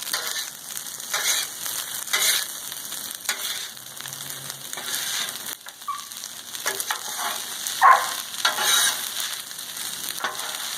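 Eggs and shrimp fry on a Blackstone griddle, with a steady broadband sizzle running throughout and intermittent scraping and stirring strokes over it. No one speaks.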